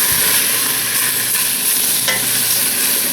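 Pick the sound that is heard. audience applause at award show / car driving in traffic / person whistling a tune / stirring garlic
stirring garlic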